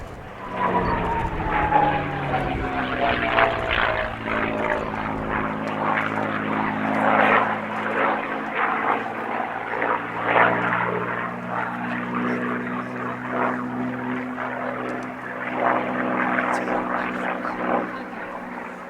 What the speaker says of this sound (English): Our final Warbird of the programme is P-51D Mustang Warhorse